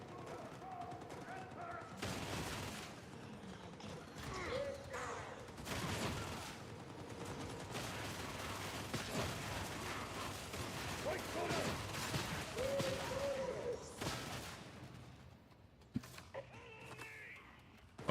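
Gunner enemies fire in Warhammer 40k Darktide, with bursts of distant automatic gunfire and heavy impacts, creaks and mechanical clatter, mixed with occasional speech across a long stretch.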